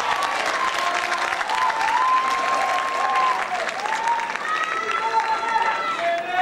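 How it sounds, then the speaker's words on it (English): Sustained applause from a large audience at an academic decathlon awards event, dense steady clapping throughout with some voices and whistle-like tones rising over it. "Let's give them a big round of applause."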